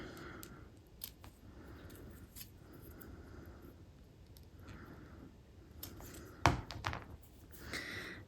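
Scissors trim the edge of paper for junk journal prayer charms, with a few soft, quiet snips over a low background and one louder crisp cut near the end.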